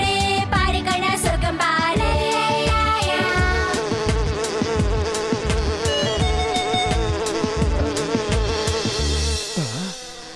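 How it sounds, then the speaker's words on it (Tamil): Honeybees buzzing close by near a hive outdoors, a loud steady droning hum with wavering pitch as bees pass near and away, fading slightly at the end. "தேனீக்கள் பறக்கிறத பார்த்தா பக்கத்துல தான் எங்கேயோ தேன் கூடு இருக்கணும்னு நினைக்கிறேன்"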